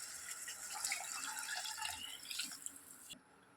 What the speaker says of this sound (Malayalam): അടുത്ത നമുക്ക് പാകത്തിന് വെള്ളം ഒഴിച്ച് കൊടുക്കാം.